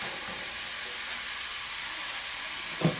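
A hamburger patty sizzling in a pan, left alone to cook: a steady, even hiss of frying fat with one small pop near the end, close and moderately loud, no voices.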